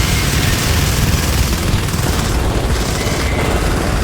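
Dense, continuous booming gunfire in the sci-fi shooter Natural Selection 2 on the Siege map, a steady loud barrage with rumbling low-end impacts and no pauses throughout.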